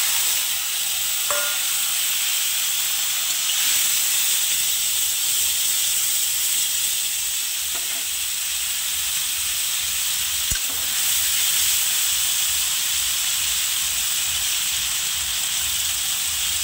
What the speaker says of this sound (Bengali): কড়াইটা গরম হয়ে গেছে, আর মাছটা আমি ঢেলে দেব।